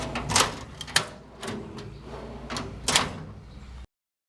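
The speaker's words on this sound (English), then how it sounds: "The drawers roll smooth and easy." Drawers on a GEARWRENCH GSX rolling tool cabinet slide open and shut several times in a row, each one ending in a sharp metallic clack, close up with quiet pauses between.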